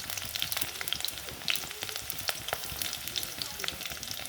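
Three bay leaves, three green chillies and a little cumin fry in hot oil with a steady, close sizzle and crackle, marked by small pops and spits. No one talks over it.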